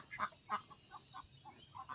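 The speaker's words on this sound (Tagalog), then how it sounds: "Itik at pato." Penned ducks, both itik and pato kinds, quacking in a scattered series of short calls of moderate loudness, some near and some softer, with no talk over them.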